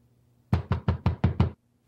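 Six sharp knocks on a door in an even, quick rhythm, close and loud, with quiet before and after.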